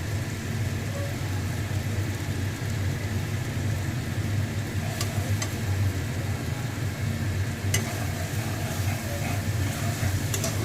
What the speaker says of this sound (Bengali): এটাকে একটু কষতে হবে ভালো করে মশলাটাকে